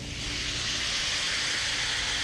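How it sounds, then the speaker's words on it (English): A touch of brandy hits a hot pan with jumbo lump crab meat and flares, giving a loud, continuous sizzling hiss that swells slightly and holds steady throughout. "Little sizzle for you. with a little flame."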